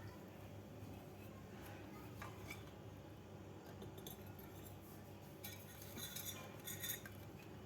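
A metal spoon clinks and scrapes against a pot as soft, sticky cooked rice is scooped into a bowl, a busy run of close kitchen clatter with light speech in the background.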